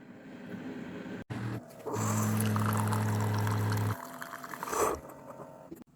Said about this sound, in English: we're going to make a 8-ounce cup of coffee